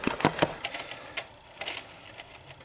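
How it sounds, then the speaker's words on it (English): A needle is fitted into a rebuilt reproducer on a Victrola 9 phonograph, producing a quick series of small, close metallic clicks and taps at an irregular rhythm, with no speech. "let me put a needle on there."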